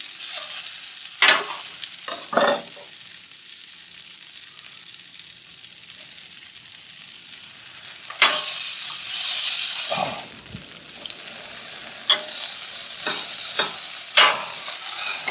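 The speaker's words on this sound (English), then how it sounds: "I think I'm ready to flip the hash browns" Hash browns sizzle steadily on a breakfast griddle, with several louder scraping and clattering bursts as a spatula works under them and flips them over, no talking.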